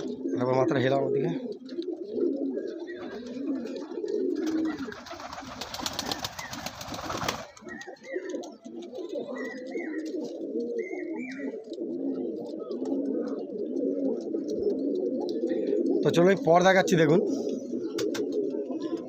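A crowd of pigeons coos steadily nearby at a bird sale in Bagnan, the low throaty chorus running throughout, broken by a short burst of wing flapping and someone speaking briefly over it.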